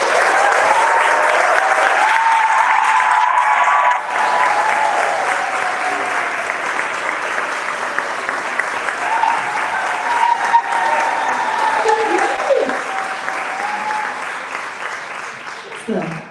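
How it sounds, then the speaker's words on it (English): Sustained audience applause fills a venue for a speaker being welcomed at a live NorthStar event, dense and steady across the whole stretch, with occasional cheers and voices mixed into the clapping. "Please give a round of applause to Sonya Renee Taylor."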